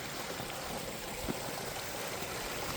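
Water runs steadily beneath the ice of a frozen pond, a constant close rushing and trickling wash with no voices.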